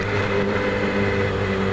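A 2007 Yamaha YZF-R6 sport motorcycle engine runs at a steady, loud, close drone with a strong low rumble and no pauses.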